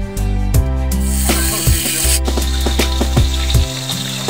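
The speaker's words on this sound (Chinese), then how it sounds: "今天我们油炸鱼吃。" Fish deep-frying in oil gives a steady bubbling sizzle, up close, with a few clinks and scrapes of a utensil against the pan.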